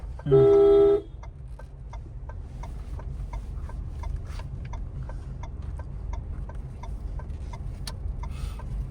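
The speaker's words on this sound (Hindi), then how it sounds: "हॉर्न।" A single short car horn honk near the start, followed by a steady rapid ticking like a turn signal over low engine hum.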